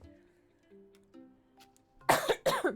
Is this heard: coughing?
yes